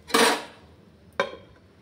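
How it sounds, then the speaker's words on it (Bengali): A metal lid set onto a wok (kadai) of steaming pitha batter, two sharp clanks roughly a second apart, the first louder with a ringing tail, close by with no voices. "কিছুক্ষণের সময়ের জন্য আমি ঢাকা দিয়ে দিচ্ছি।"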